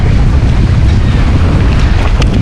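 Strong wind blows by the river at the Budge Budge–Bauria ferry in West Bengal, a steady, loud, buffeting roar that fills the whole stretch with no voices.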